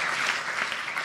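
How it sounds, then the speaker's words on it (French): A festival audience at a start-up pitch battle gives a short burst of dense, steady applause, heard from within the room at moderate volume. "On peut les applaudir."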